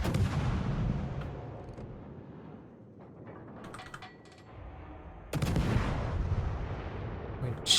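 Ship guns on the USS San Diego firing shells in World of Warships, heavy booming salvos that open loud, thin out into scattered distant reports, then return as another strong volley.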